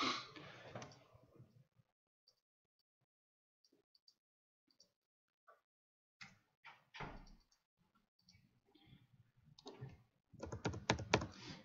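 Computer keyboard typing comes in sparse, quiet clicks early on, then denser bursts of keystrokes toward the end, close and otherwise alone in a silent room.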